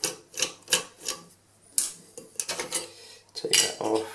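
Small plastic and metal parts of a Roca dual flush valve being unscrewed and handled, with close, irregular clicks, scrapes and rattles in short bursts.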